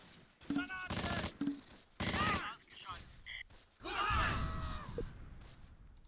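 Artillery and gunfire in the Close Combat war game: several loud, sustained bursts of firing, roughly five heavy volleys spaced over a few seconds, with a short high tone between them and a long rumbling blast near the end.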